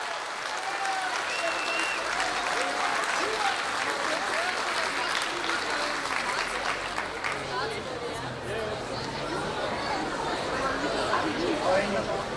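A crowd claps steadily and loudly at a taekwondo demonstration show, a sustained wash of applause lasting the whole stretch with chatter and voices mixed in underneath.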